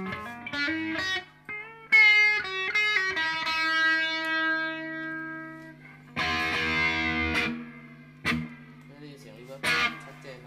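Guitar played through a Marshall VS265 amplifier on its overdrive channel with reverb, ringing chords and single notes that sustain and decay, with sharper distorted strums later, loud and close with no voice over it.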